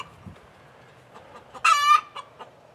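Backyard hens give soft scattered clucks, then one louder drawn-out squawking call near the middle, followed by a few quieter clucks; no talk.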